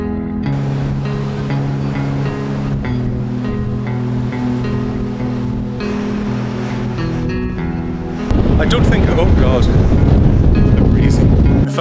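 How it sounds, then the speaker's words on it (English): Steady, heavy wind buffets the microphone on an Irish Ferries ferry deck at sea over a low engine drone, with rushing water surging louder toward the end. "It's really breezy out there."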